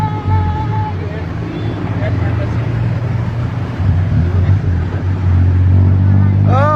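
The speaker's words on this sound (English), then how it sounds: "We're in Bangkok now. Doing tuk-tuk sightseeing." A tuk-tuk rolls through Bangkok traffic, its steady low engine drone running throughout with a brief horn-like warble near the end; voices and street babble sit faintly beneath the motor.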